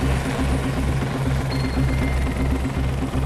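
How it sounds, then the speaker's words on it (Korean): Military helicopter setting down on the grounds of the National Assembly at night, a steady loud rotor thump and engine roar pulsing throughout at close range with no voices. "군용 헬기가 국회 운동장에 내려서고"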